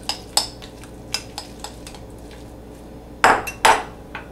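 Egg salad with mustard being mixed in a bowl, heard as a series of utensil clinks and taps against the bowl that are irregular at first and then end in two louder scraping knocks near the end.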